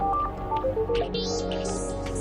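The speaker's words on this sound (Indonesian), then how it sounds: "Si Ben kenapa juga sih pakai nelfon aku lagi keadaan begini?" A mobile phone rings for an incoming call, playing a melodic electronic tune of short stepped notes over a low background hum.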